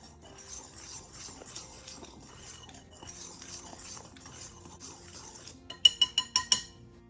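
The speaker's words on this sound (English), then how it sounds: "we're going to give these dry ingredients a quick whisk until they're well blended" A whisk scraping and clicking against a bowl while blending flour, cinnamon and brown sugar, a quiet steady stirring rhythm that ends in a few louder clinks of metal on the rim.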